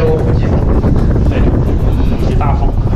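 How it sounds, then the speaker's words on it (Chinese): Strong wind roars through a narrow cave passage, a loud continuous rush buffeting the microphone, with faint voices underneath. "这里风太大了。 看这个风啊，呼呼的吹啊！"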